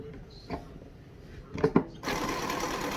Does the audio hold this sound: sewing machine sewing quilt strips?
yes